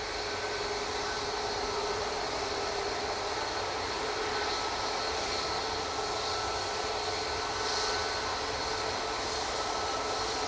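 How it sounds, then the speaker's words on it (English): Aircraft engines at Manchester Airport hold a loud, steady, distant roar with a constant whine layered on top, swelling slightly without pause and with no talk. "please enjoy these epic spool ups"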